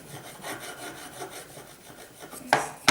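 A Pokemon card is scratched under pressure, giving soft repeated rasping strokes, then two sharper, louder scrapes close by at the end.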